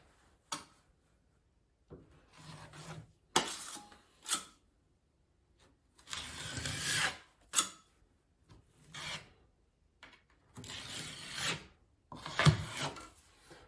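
Short scraping strokes of a drywall knife smoothing a thin layer of compound over a wall repair, coming in separate close, rasping passes with quiet gaps between them and no speech.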